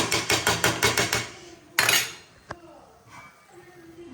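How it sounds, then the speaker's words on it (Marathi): Metal lid set onto a cooking pot of carrot sweet with dry fruits in a home kitchen: a quick run of rattling clinks, a sharp clatter, then a single soft metallic knock, close and clear. "हे थोडंसं मिक्स करून झाकण ठेवते"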